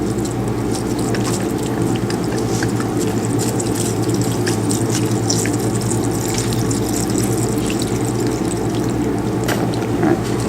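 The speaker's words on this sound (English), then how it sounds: "Now we're going to add water to it." Tap water pours steadily into a container filled nearly to the top for a lab ice-water temperature measurement, a continuous rushing splash with a low hum underneath and no pauses.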